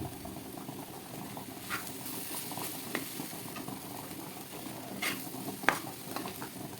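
Chili powder, salt and turmeric sizzle and fry softly in a pan for Andhra-style stuffed brinjal curry, a steady low crackle with occasional spoon scrapes and light clicks, no talking.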